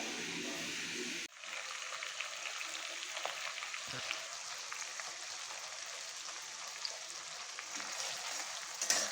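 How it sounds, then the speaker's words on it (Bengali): Onion, garlic, tomato and green chili frying lightly in a pan, a steady broadband sizzle that starts abruptly after a second and holds evenly to the end, close and fairly loud with no talk. "এখানে এখন পেঁয়াজ রসুন টমেটো কাঁচা লঙ্কা একটু একটু হালকা ভেজে নিচ্ছি"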